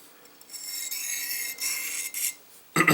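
A knife edge draws across a sharpening stone in freehand sharpening, a light elevated pass giving several soft rasping strokes, ending with a sharper scrape.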